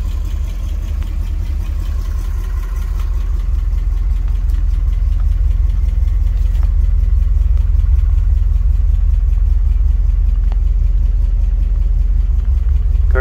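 A 1960 Ford Thunderbird convertible sits idling, its engine giving a steady, close, low rumble with an even rhythm throughout, with no talk over it.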